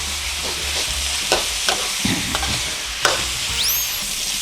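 Pork being stir-fried in a pan for a Trat-style Thai pork curry with chamuang leaves: a loud, continuous sizzle with repeated scraping and clattering stirring strokes, close up and without talk.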